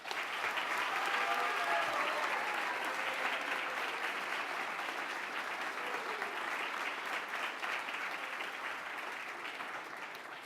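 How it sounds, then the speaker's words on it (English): Applause for students at a Cum Laude Society induction ceremony, sustained clapping from a seated audience, loud and even, slowly tapering toward the end. "you may applaud after each name is read aloud."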